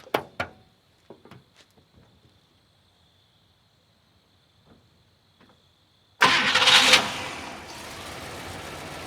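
A 1964 AMC Rambler Classic cranks and catches, its engine roaring up loud and then settling into a steady run, heard close from outside after a few quiet clicks and handling noises.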